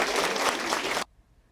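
Applause from a crowd at an award ceremony fills the room, loud and dense, with people clapping as each recipient gets a certificate of thanks. It cuts off abruptly after about a second, leaving near silence.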